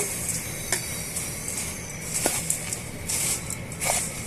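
Puffed rice muntha masala, a roadside-cart style snack, being stirred and tossed in a bowl, with soft crisp rustling and a few sharp clinks of a spoon against the bowl.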